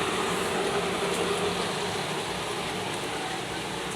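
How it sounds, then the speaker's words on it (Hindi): Heavy rain pours down in a steady, dense hiss that fills the whole stretch without a break, loud and continuous like a downpour close by. "अरे देखो इतनी तेज़ बारिश हो रही है"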